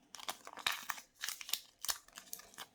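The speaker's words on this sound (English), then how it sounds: "It doesn't look like I need a knife for this. The tape just comes off." Packing tape pulled off the cardboard box of a Razer BlackWidow Elite keyboard during unboxing: a faint, close series of crackling, crinkly rips in short irregular bursts, with no talk.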